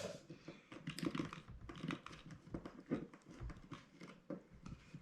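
Razor blade cutter scoring around heavy-duty double-insulated high-voltage DC wire, giving faint, close, irregular scratchy cuts in quick bursts.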